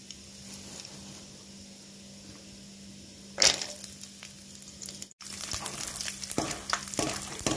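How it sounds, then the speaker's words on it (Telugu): Peanuts hitting hot oil in a kadai, a quiet background hiss that bursts into a sudden loud sizzle when they drop in, followed by crackling and spattering. "ఇప్పుడు అందులో ఆయిల్ వేడయ్యాక పల్లీలు వేస్తున్నాను."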